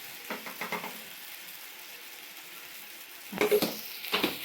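Green jackfruit curry with turmeric and salt fries in a pan, a steady close sizzle broken by a short burst of stirring early on and heavier spatula scraping near the end.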